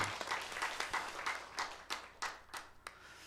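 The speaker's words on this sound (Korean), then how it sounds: "박수로 우리 환영하십시다" A church congregation claps to welcome new members during a Korean Sunday worship service: a fairly quiet ripple of scattered hand claps with sharper individual claps standing out, steady for a few seconds.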